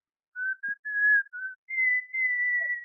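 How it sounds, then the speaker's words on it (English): A man whistles a bright melody on an old-time radio comedy show, a few short notes and then longer sustained tones with brief gaps, clear and alone. "Now, whistle."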